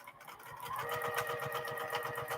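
Sewing machine stitching a quilt in a free-motion and ruler quilting session, a fast even needle chatter that stays close and quiet throughout, with no talk.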